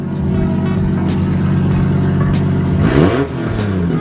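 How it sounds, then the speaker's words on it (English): The Zupra project car's engine idles loudly nearby, then is revved in a quick rise and fall of pitch before settling back to idle. "Give her a couple little more revs"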